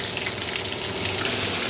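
Fish frying in a pan over a low gas flame, a steady, close hiss and sizzle of oil that holds evenly throughout with no voices.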